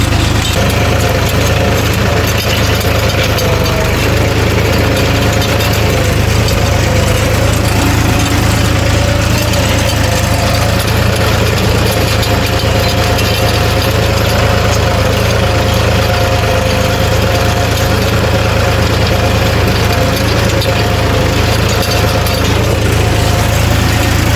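A tractor engine runs loud and close without pause, a dense, steady roar with a heavy low rumble, while the tractor strains with its front end lifted off the ground as it pulls out a root.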